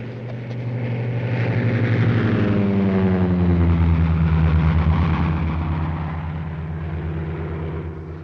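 A propeller airplane flies past overhead, its droning engine rising and falling in pitch as it approaches and recedes, loud and alone with no voices.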